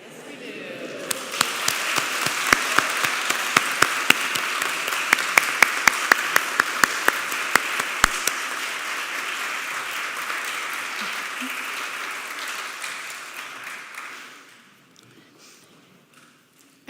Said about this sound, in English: giving a round of applause to our new members